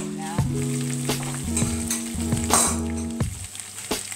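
Beef frying in oil in a pot for pot roast, a steady close sizzle with occasional stirring scrapes, under background music.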